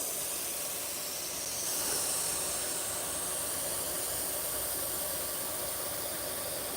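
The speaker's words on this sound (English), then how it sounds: "if it's back to that, you wanna use the airbrush" An airbrush sprays paint for an old-school ribbon pattern on a custom paint job, producing a continuous close airy hiss that swells slightly around two seconds and then holds steady, with no talking.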